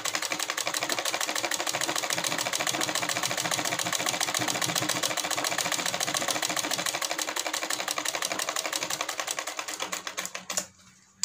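A sewing machine runs steadily, stitching the lining of a semi-Patiala salwar in a fast, even needle rhythm that stays loud and close, then slows and stops near the end.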